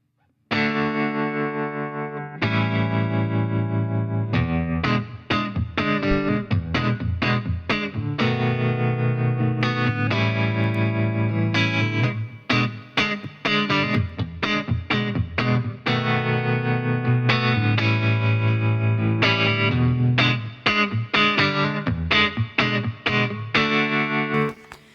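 Loud distorted electric guitar playing a choppy riff of chords and short stabs, with brief pauses, its tone shifting slightly over time.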